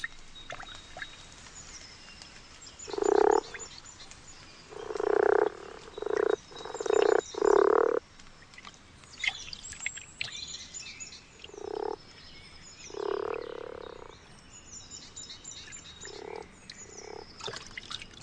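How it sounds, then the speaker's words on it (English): Male common frogs croak at a newly restored garden pond in spring, giving bursts of low purring calls in clusters, some loud and close, others softer, over a faint outdoor background. "The males are the first to arrive and croak to attract the females."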